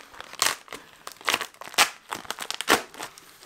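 A paper envelope from a publisher is torn open and handled, giving bursts of crisp crinkling and tearing in uneven clusters, close and fairly loud, with no speech.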